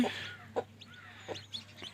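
A hen gives a few low clucks close by while her newly hatched chicks peep high and thin in between.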